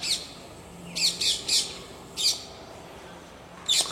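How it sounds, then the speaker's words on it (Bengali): Parrots squawking at a Bangalore lake in the morning, several sharp, shrill calls in short bursts, some doubled, spaced over a quiet background hum with no talk. "টিয়া পাখি ডাকছে এখানে।"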